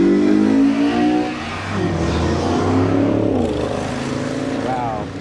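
A Mazda Miata sports car drives past on a winding mountain road, its engine revving and changing pitch as it passes close, with people talking over the engine noise.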